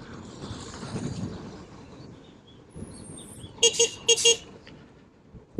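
Two or three short, bright horn toots from a Voltz EV1 electric motorbike cut through steady road and engine noise, fairly close, after a stretch of traffic rumble.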